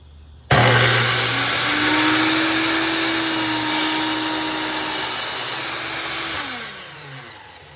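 A miter saw cuts the end of a wooden board for a tabletop plant stand: the motor spins up with a sharp start, holds a loud, steady whine through the cut, then winds down.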